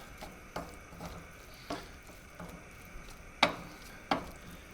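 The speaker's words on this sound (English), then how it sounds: "when you put it in a hot pan, it starts to bubble a little bit" Sweet soy sauce heating in a hot pan, a soft low simmer with occasional sharp pops and sizzles spaced irregularly, close and quiet.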